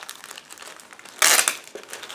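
Plastic crinkling and rustling as a bag from a 1/48 scale model aircraft kit is opened, with one loud burst of crumpling in the middle and lighter handling around it.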